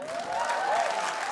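Audience applause at a stand-up comedy show: a brief, dense burst of clapping from a crowd, steady and fairly loud throughout.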